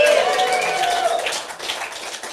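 Live show audience applauding and cheering, a steady broadband wash of claps and crowd noise that starts loud and tapers slightly over about two seconds.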